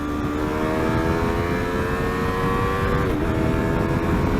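A Yamaha R3 motorcycle engine drones loud and close while racing behind a KTM Duke 390, with wind rush and a steady rising whine. A brief dip marks a clutchless upshift before the pitch climbs again.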